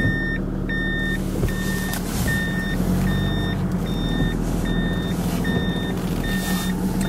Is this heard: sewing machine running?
no